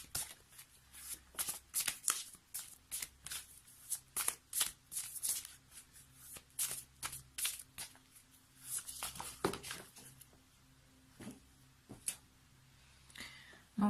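Tarot cards are shuffled by hand in repeated quick riffles and soft flutters, close and fairly quiet, with brief pauses between bursts and no talking.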